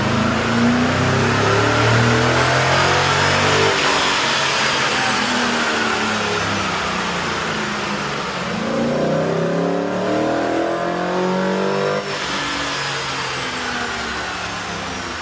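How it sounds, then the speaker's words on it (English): Chevrolet Tahoe with a 5.3-liter V8 running on a dyno, compared with the stock intake and an AEM intake: a loud, steady engine roar sustained throughout, with pitch sweeps as it revs and settles and a slight dip partway through. "Here's a comparison of the vehicle sound on the dyno with the stock OEM system versus AEM's"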